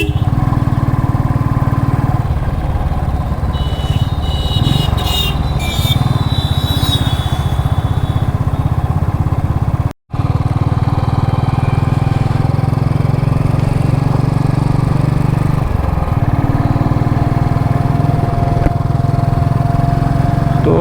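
Motorcycle on a long road trip through a village in the early morning, a steady close engine drone with wind rush running continuously, one momentary dropout midway, no talk.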